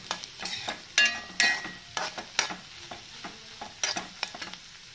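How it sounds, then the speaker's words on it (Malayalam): Soya curry with fried onions and salt being stirred in a pan: a spoon scrapes and clatters in repeated strokes over a quiet sizzle, close and clear with no voices. "ഉപ്പിട്ട് നന്നായിട്ട് ഇളക്കാം"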